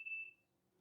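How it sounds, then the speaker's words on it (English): A single short, high, clear electronic beep from a security camera switching on fades quickly into quiet room tone. "Pardon that beeping. If y'all heard that was one of my cameras going on."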